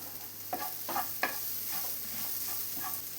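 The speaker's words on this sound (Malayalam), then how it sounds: "ഇതിലേക്ക് ഇനി അല്പം വേപ്പില ചേർത്ത് കൊടുക്കാം" Curry leaves stirred into an okra and yogurt curry without coconut give off a soft, steady sizzle, with a few scraping strokes of a spoon through the pan.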